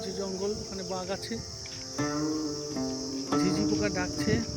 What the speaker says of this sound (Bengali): ঝিঝি পোকা ডাকছে।